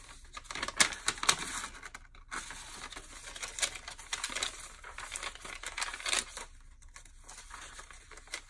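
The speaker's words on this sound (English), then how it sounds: "The sound of this paper, it's all crinkly and crunchy and happy sounding." Crinkly journal pages, including graph paper, rustle and crinkle up close, with sharp crisp crackles and scattered crunchy bursts as the sheets are handled and turned.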